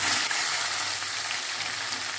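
Potatoes and drumsticks frying in oil with a cumin tempering, giving a steady, soft sizzle at close range with no voices.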